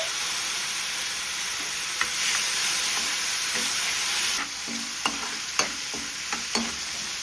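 Ginger garlic paste, about two and a half spoonfuls, fries in a pan with a steady bright sizzle, while a few sharp scrapes of a spoon stir it up close, and no one speaks.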